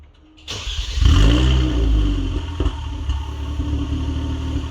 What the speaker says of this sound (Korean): 배기음이 조금 다른데 한번 들어보겠습니다. 시동!